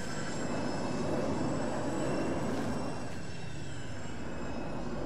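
Airplane engine in a military combat video game, a loud continuous droning roar with a steady hum held throughout, no voices.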